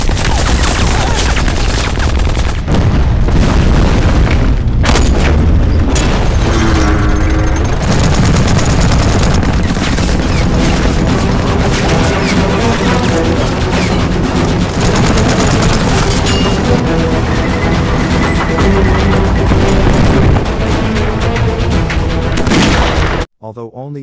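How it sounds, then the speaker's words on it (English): Dense battle noise: rapid bursts of anti-tank gunfire and heavy booms pile up continuously and loudly for the whole stretch, ending abruptly. "The battle opened with anti-tank gunfire from the Soviet Union soldiers."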